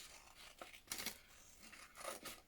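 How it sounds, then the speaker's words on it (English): Scissors fussy-cut a paper bow for a handmade wreath decoration, giving a quiet run of crisp snips and papery rustles in short irregular bursts. "I'm going to cut out this bow. I'll fussy cut it out"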